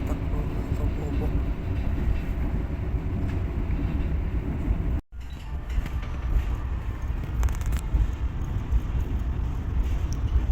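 Passenger train running toward a station, a loud continuous rumble and clatter of wheels on rails heard from onboard, with a brief dropout midway and faint squeals later.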